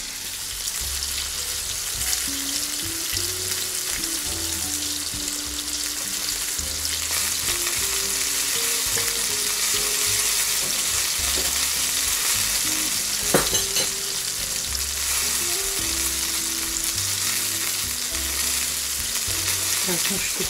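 Fish frying in a pan at home, a steady close sizzle and crackle running without a break, with occasional stirring and clinks of utensils and a low hum beneath.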